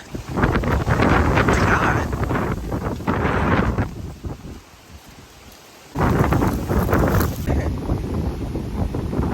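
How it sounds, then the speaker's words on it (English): Strong Hurricane Ian wind roars outdoors and buffets the microphone in loud, sustained gusts, dropping briefly midway before surging back at full force. "Let's go experience this crazy wind."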